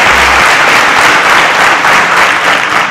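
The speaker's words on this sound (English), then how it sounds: "A round of applause for Folati." A studio audience on a quiz show applauds a contestant named Folati, a loud, even burst of clapping that holds steady throughout, with a brief low hum at the very start.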